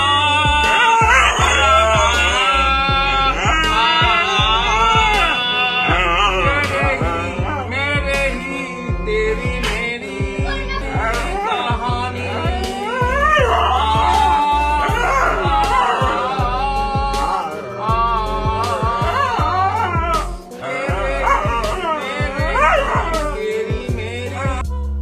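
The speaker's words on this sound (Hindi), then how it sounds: "ये प्यारा कुत्ता वहां पहुंच जाता है और इस आदमी के साथ मिलकर हारमोनियम की धुन पर गुनगुनाने लगता है" A dog howls and yips along to a man's harmonium tune, its wavering, rising and falling howls close and loud over the sustained reed notes, continuing for the whole stretch.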